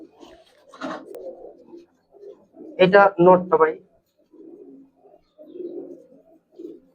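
A black old-strain Giribaz pigeon held close in the hands gives soft, low coos in short bursts, broken up by someone talking nearby.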